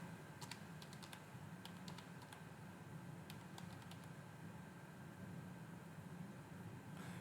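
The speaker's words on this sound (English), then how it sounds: "Let's go ahead and type that in." Typing on a computer keyboard, with quick bursts of close key clicks separated by short pauses over a quiet, steady background hum.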